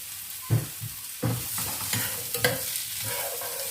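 Squid being stir-fried with onions and vegetables in a pan: steady sizzle with irregular scraping and stirring strokes of a utensil, fairly close, with no talking.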